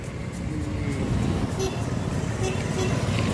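Road traffic noise idles around a stopped vehicle in Bhilai, a low steady engine rumble with occasional brief higher clicks or horn-like tones, fairly close and continuous.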